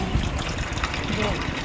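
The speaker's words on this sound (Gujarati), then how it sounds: "ગરમ ગરમ પાણી કાઢીને ઠંડુ ભરી દીધું." Water gushes as hot water is drained from boiled potatoes and cold water is poured in to cool them in a home kitchen, a steady splashing wash with people talking over it.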